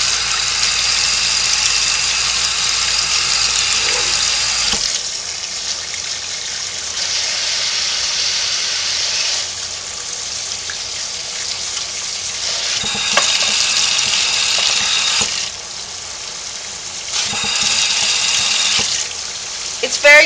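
Hot water gushes from a household tap for a flea bath for a puppy, a loud rushing hiss that starts and stops in several bursts, with occasional speech nearby.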